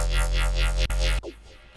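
A halftime Serum synth layer sits over hip hop sub bass, loud and dense, with a subtle LFO wobble sweeping rhythmically before it cuts off abruptly, leaving a short fading tail.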